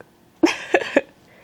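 A pet cat meows indoors: three short, loud calls in quick succession, close by, with quiet before and after and no talking.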